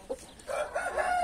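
A rooster crows a short, clear call close by in a backyard chicken flock, loud and alone.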